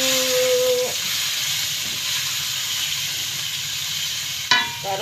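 Spicy chicken wings sizzle steadily in a pan with bay leaves, lime leaves and galangal while being stirred, a continuous close frying hiss broken near the end by a sharp clink of the spatula against the pan.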